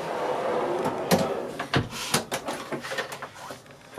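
A drawer in a 2018 Lance slide-in truck bed camper is slid open and shut several times, giving a string of close, sharp clunks and soft sliding rattles with uneven spacing.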